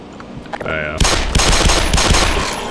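Rapid automatic gunfire from the video game Black Mesa, a dense burst of loud, close shots starting abruptly and continuing in a steady rattling stream, with a brief voice heard earlier.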